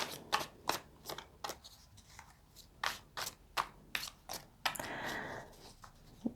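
Tarot cards are shuffled by hand in a quiet room, a run of crisp riffling and slapping bursts at uneven intervals, close and clear with no talking.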